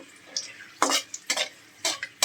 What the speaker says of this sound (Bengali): হালকাভাবে ভাজতে হবে শুকনো মরিচ